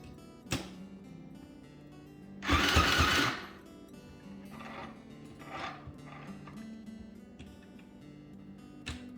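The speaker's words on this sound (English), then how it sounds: "Looks like it's right on, so I'm going to sew right along here." Home sewing machine stitching a cotton burp cloth, with one loud whirring run of about a second and scattered light clicks and handling taps around it. No talking.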